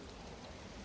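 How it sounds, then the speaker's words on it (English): Rain falls in a steady wash of hiss and patter outdoors, faint and continuous with no voices over it. "it's raining more and more"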